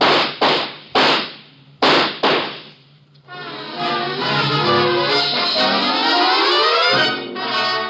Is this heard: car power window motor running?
no